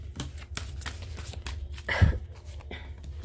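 Tarot cards being shuffled by hand: soft, quick riffling and flicking with light tapping, close and fairly quiet, with one fuller burst of shuffling in the middle.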